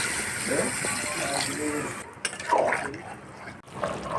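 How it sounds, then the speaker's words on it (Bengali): Water pours into a cooking pot of Bengali meat curry with a soft splashing gurgle, rising and falling as it is added, while someone speaks over it. "তো এখন জল দিয়ে দেব।"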